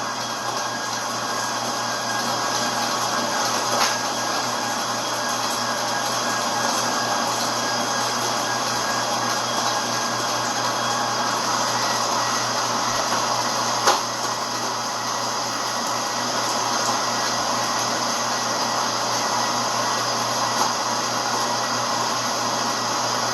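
An electric mixer creams butter and sugar in a restaurant kitchen, a steady motor whine with a few faint clicks over a long, unbroken stretch, no talking.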